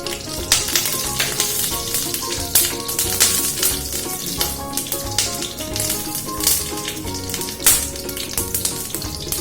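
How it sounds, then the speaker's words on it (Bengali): Mustard oil in a wok on a gas stove gives off a steady sizzling crackle with scattered sharp pops, close and continuous, while faint music plays underneath. "এখন গ্যাস অন করে আমরা কড়ায় অল্প সর্ষের তেল দিলাম"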